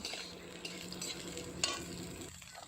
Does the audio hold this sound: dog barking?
no